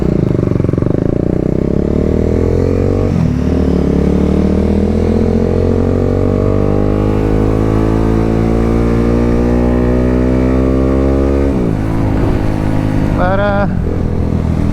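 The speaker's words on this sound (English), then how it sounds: "right now I'm kind of distracted with all this traffic" Engine drone from a BMW G310R motorcycle riding through Sydney street traffic, its pitch climbing steadily through the gears with shifts near three and twelve seconds, and wind noise throughout.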